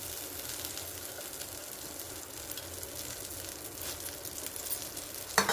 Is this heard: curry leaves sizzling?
yes